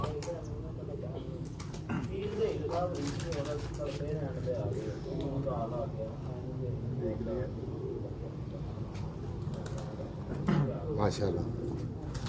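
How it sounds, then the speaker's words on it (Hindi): Rooftop pigeon cooing in soft repeated low coos under steady ambient noise, with someone talking over it throughout. "पक्का विनर कबूतर है"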